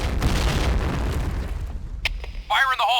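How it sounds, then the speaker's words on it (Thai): Explosions from a shooting video game, a dense rumbling blast burst through the first half that fades out, followed by game sound effects and a brief pop near the end, with voices talking over parts of it. "เฮ้ยระเบิดมาเพียบเลย"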